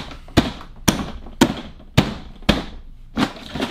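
A BCW cardboard comic book bin is banged to lock its folded parts together, producing six or seven sharp, hollow thumps at a steady pace, close and loud, with no talking.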